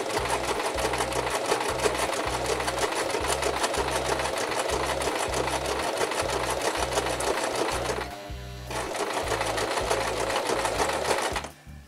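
A sewing machine stitches slowly along the edge of craft paper for bookbinding, a close, rapid, even mechanical rhythm with one short pause partway through.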